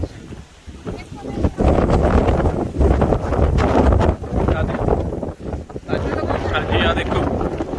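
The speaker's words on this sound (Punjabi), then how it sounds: "ਹਾਂ, ਹਵਾ ਜ਼ਰੂਰ ਚੱਲ ਰਹੀ ਆ।" Wind blowing across an estuary walkway in Invercargill, Southland, on a windy day, rumbling and buffeting the microphone in loud, steady gusts while someone talks over it.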